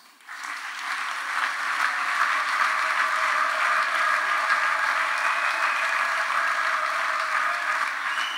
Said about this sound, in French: Je vais vous demander d'ovationner cette soirée de la bénédiction de ces mariages avec un torrent d'applaudissements